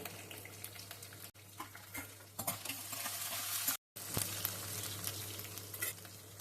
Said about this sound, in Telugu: ఈ పచ్చిమిరపకాయ చక్కగా వేగనిద్దామండి